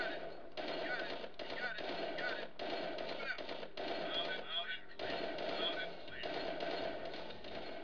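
Gunfire in the strategy game Command & Conquer: Tiberian Sun comes as continuous rapid bursts of rattling shots with short gaps between volleys. The bursts play at an even, steady level throughout.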